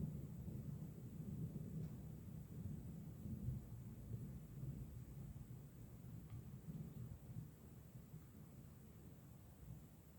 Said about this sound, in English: I don't know if you can hear the thunder too.